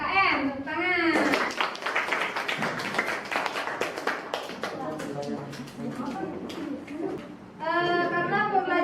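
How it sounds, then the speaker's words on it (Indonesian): Schoolchildren in a classroom clap together after their teacher calls for applause, a burst of dense clapping mixed with children's voices, framed by the teacher speaking before and after. "Tepuk tangan."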